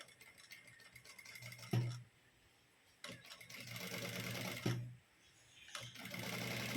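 A sewing machine stitches a blouse in three steady bursts of fast, buzzing mechanical rattle, pausing briefly between runs; the whirring is close and alone, with no talking.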